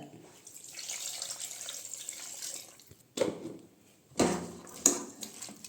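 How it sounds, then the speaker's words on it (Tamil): Water is poured from a tumbler into a pot of salted country chicken for a pressure-cooker basmati biryani, a soft trickle followed by a few short splashing pours close by. "இப்போ இது கூட ஒரு டம்ளர் தண்ணி ஊற்றிக்கோங்க"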